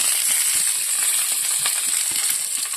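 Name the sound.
garlic sautéing in a pan for lentil curry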